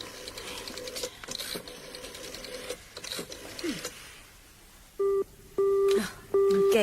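A telephone number is dialed with a few faint clicks, followed by an engaged tone of three loud, evenly spaced beeps, in a radio drama setting.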